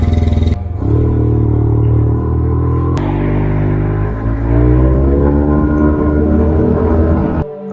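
A motorcycle engine runs steadily and close by, with a loud mechanical click partway through. It sits in an urban setting by a city park, and no one speaks.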